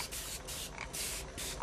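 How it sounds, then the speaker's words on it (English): Short hissing bursts of a water spray bottle misting watercolor paints, about four quick sprays in a row, close but soft, with no talking. "Spray my paints, do all the things."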